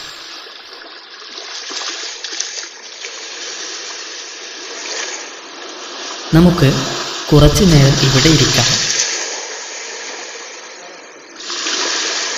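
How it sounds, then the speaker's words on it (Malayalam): Cartoon sea waves roll onto a beach in a blowing wind, a continuous rushing wash that swells in places, with a voice speaking briefly over it midway. "അടിച്ചു വീശുന്ന കാറ്റിൽ തിരമാല ഒന്നിന് പിറകെ ഒന്നായി വരുന്നത് കാണാൻ എന്തു ഭംഗിയാണല്ലേ"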